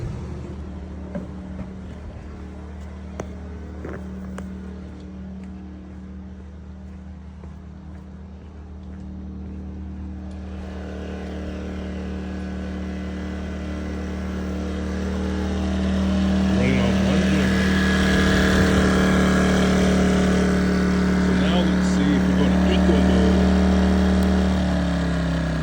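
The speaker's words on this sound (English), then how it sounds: "Now let's go down and put one compressor on and see if it works." A camper air conditioner on a 2022 Wolf Pup camper runs with its fan on high, and a compressor kicks in partway through, raising a steady low hum and drone that grows louder and fuller, while someone talks over it at times.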